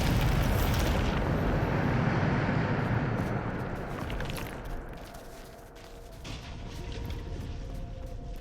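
A Bombarda blasting spell explodes in Hogwarts Legacy, a loud, roaring blast that fills the opening seconds and then rumbles and slowly fades under game ambience.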